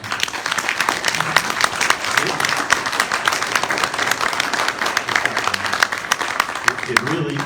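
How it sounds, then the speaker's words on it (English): An audience at a county mayoral candidate forum claps for the candidates in sustained, dense applause that keeps a steady level throughout, with individual hand claps standing out near the front and a faint voice underneath. "everybody out there should give these guys a round of applause"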